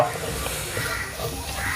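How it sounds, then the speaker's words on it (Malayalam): Squid fry with coriander, pepper and garam masala powders sizzles steadily in a pan while being stirred, a continuous close frying hiss with soft scraping movements throughout. "ഇളക്കൂ, അടിപൊളി. ഇളക്കൂ ഇളക്കൂ ഇളക്കിക്കൊണ്ടേയിരിക്കൂ."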